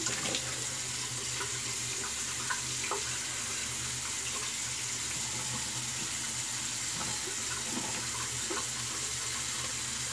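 A bathroom tap runs steadily for rinsing during a wet shave with a safety razor, a constant faint hiss and splash with no one talking.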